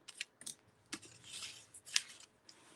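A paper card is folded back along its crease while making a book-binding easel card, giving soft crisp crinkles and short scraping rustles up close and faint, with no talking.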